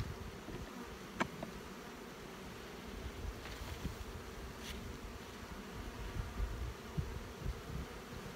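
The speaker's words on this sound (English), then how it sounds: "As soon as I open them up, I can hear this hum, queenless hum." A dense, continuous hum of a queenless honey bee colony in an opened nest, with a few faint clicks or taps over the steady drone.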